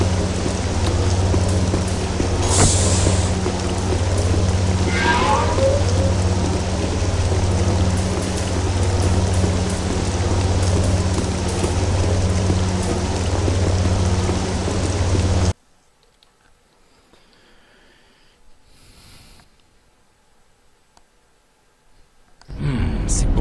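Rain pouring in the video game Jedi Academy, a dense steady hiss with a low rumble underneath that cuts off abruptly partway through, leaving near silence with a few faint sounds.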